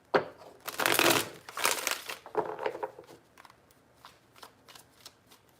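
Tarot cards being shuffled by hand, with several quick riffling bursts of crisp card flutter close to the mic, then softer taps and slides as the deck settles.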